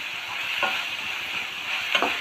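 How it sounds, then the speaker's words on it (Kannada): Onions frying in oil in a pan for an alasande (black-eyed pea) palya, a steady bright sizzle with a couple of brief scraping stirs. "ಚೆನ್ನಾಗಿ ಆಯಿಲಲ್ಲಿ ಫ್ರೈ ಆಗ್ತಾ ಇದೆ ಅದು ಈರುಳ್ಳಿ"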